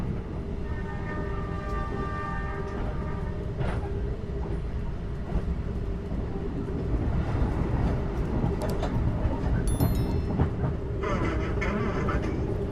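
A Blambangan Express train hauled by an RMB locomotive rumbles along, a constant low rolling drone with faint clanks and brief higher squeals and tones, heard from inside the carriage.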